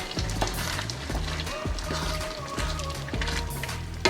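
Paneer masala for a dhaba-style dish sizzles and fries steadily in a pan, with the scrape and clatter of stirring coming through in repeated strokes, close and fairly loud throughout.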